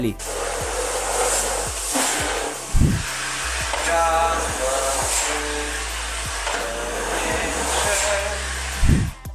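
An Electrolux UltraOne EUO93DB bagged vacuum cleaner runs at top power with a steady, fairly loud motor whir and airflow hiss, broken by a few brief thumps and rubbing sounds of the nozzle being moved.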